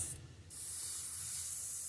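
An airbrush sprays pearlized paint at low pressure, giving a steady, broad airy hiss that briefly dips and then holds evenly. No one speaks.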